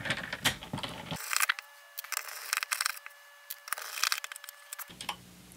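A screwdriver backs rounded-top screws out of a Nintendo GameCube console, giving a run of close, sharp ratcheting clicks and light mechanical ticks in uneven bursts over several seconds.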